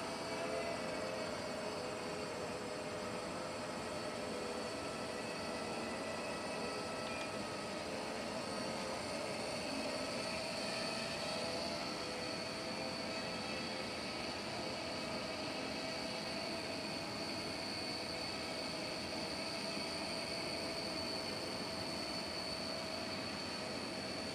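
A Galaxy Visitor 2 quadcopter drone flies at altitude outdoors, its motors giving a continuous, even whine and hum that holds steady throughout with no break.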